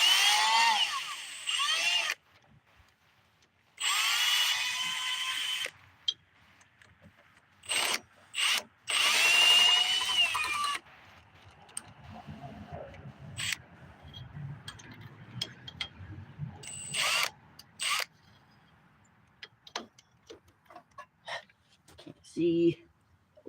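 A power drill fitted with an extension and no adapter whirs in several short, loud bursts, separated by quieter stretches filled with clicks, clatter and handling noises.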